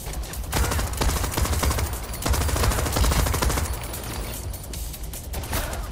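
Rapid, loud gunfire from the video game Crime Boss Rockay City: dense automatic bursts crackling almost nonstop, with short dips between volleys and no talk.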